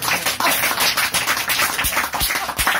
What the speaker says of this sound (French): je voudrais que vous applaudissiez Claire tout de suite